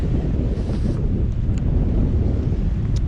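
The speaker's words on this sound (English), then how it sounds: "There's a drizzle coming down and there's a hell of a wind." Strong wind roars and buffets the microphone aboard a sailboat on a mooring buoy off Orkney in drizzle, a continuous low rumble with faint splashes of water underneath and no talking.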